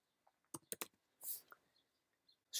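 Keys on a computer keyboard are typed in a quick, quiet flurry of sharp clicks, followed by a softer burst and a couple of isolated taps.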